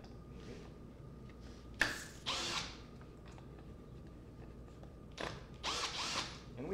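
Power drill backing out two screws that hold a wire on a reusable fish-mount stand, in two short whirring bursts separated by a quiet pause.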